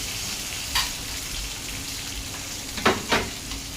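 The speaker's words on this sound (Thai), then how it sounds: "ถ้ามันเดือดแล้วจะค่อย ใส่ ไข่ลงไปครับผม" An egg fries with cha-om in hot oil, a close, steady crackling sizzle with a few sharper pops and spatters rising above it.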